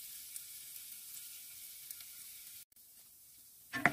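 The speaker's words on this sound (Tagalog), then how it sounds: "Hintayin lang natin na maging brown yung yung garlic." A single clove of garlic sizzles in a little oil in a pan. The hiss is soft and steady, stops briefly near the end, then comes back with a few louder crackles.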